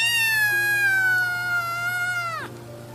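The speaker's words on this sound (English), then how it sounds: "Cat mews, purr." A single long, loud, close cat meow slides slowly downward in pitch and ends in a sharp drop, with a low steady hum beneath; no purring is evident.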